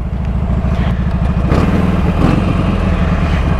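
A Harley-Davidson Sportster Iron 883 with an Evo engine idles close by, a loud, steady low throb with a lumpy pulse that holds evenly throughout.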